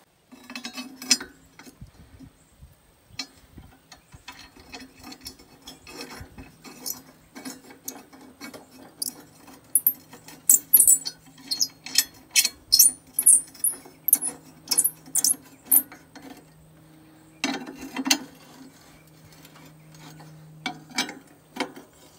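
Ratcheting and clinking metal as a wrench loosens a bolt holding a Snapper mower blade, with short rhythmic bursts of clicks, a few faint gaps and a light metallic clink near the end.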